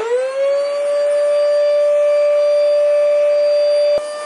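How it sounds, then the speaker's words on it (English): A broken household hoover vacuum cleaner gives a loud, steady high-pitched whine that rises briefly at the start, holds constant, then cuts with a click near the end, with no talking. "Everyone knows what a normally healthy hoover sounds like. Now listen to this."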